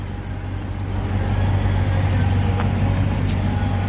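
A muffler-deleted 2021 Dodge Charger Hellcat Widebody gives a loud, steady, deep exhaust rumble close by that swells slightly after the first second and holds, without distinct rev peaks.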